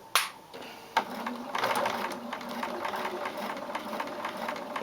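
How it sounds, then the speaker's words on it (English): A sewing machine running a lock stitch through fabric for a mask, starting after two sharp clicks and then whirring steadily with a rapid mechanical needle rhythm, close and clear. "So it automatically does a lock stitch at the beginning of every row of stitching."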